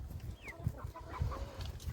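Flock of chickens clucking at a farm, including birds that fly over fences, with a rooster among them; a steady, near chorus of overlapping clucks and soft calls, with no talk.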